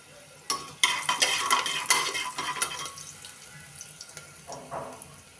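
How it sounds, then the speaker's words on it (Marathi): Spoon stirring turmeric and asafoetida into moong dal in a pan, giving scraping, clinking metal strokes in a burst through the first three seconds, then softer stirring and light clatter. No talking. "आता ह्याला एकदा हलवून घ्यायचं आहे."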